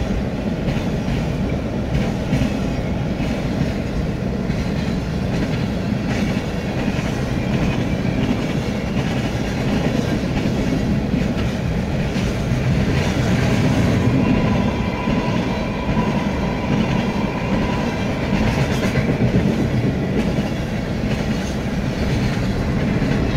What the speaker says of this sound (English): Train, but it rolled through so fast.